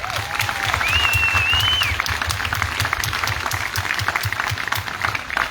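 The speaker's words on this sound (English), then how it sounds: "Could we give a round of applause to all our supporters?" Steady crowd applause at an outdoor Pride event in Steinbach, dense clapping continuing throughout with a brief whistle rising over it early on.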